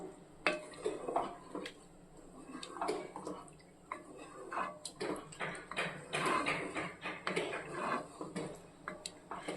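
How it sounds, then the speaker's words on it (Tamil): Rice and water being stirred in a pot while preparing seeraga samba chicken dum biryani, with irregular scraping, clinking and sloshing strokes from close by and no talk. "நம்ம சேர்த்துக்கிட்ட அந்த மூணு கப் அளவு தண்ணியை வந்து நல்லா கலந்து விட்டுருவோம்"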